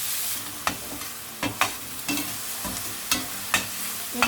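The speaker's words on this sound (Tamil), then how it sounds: "ஆனியன் வதங்கட்டும். உப்பு போட்டு வதக்கிடலாம்." Onions sautéing with salt in a pan for veg kothu parotta, a steady bright sizzle with a spatula stirring and scraping in regular strokes about every half second, close and alone.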